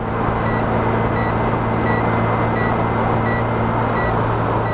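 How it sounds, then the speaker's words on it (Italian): A high, evenly spaced speed warning beep, sounding above 120 km/h, repeats about every half second over the steady road and engine drone inside a moving Toyota GT86. "Nella GT86 di Luca potete sentire il classico cicalino che ti avverte che stai superando i 120 km orari."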